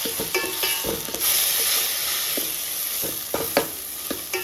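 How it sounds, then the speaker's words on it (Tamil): Onions and tomato sizzle in a pan for a South Indian cabbage kootu while a spoon stirs with intermittent scraping clicks over a steady frying hiss, close and moderately quiet. "டொமேட்டோ ஆட் பண்ணி நல்லா மிக்ஸ் பண்ணி கொடுத்துக்கலாம்."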